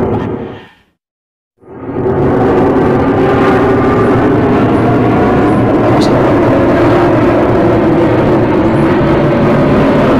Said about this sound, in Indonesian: diganggu sama pesawat.